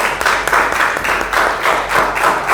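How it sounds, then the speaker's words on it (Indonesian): A classroom of students claps steadily for two classmates after their group presentation, a dense, loud applause with gently pulsing rhythm. "Tepuk tangan dong untuk Livia dan Farah"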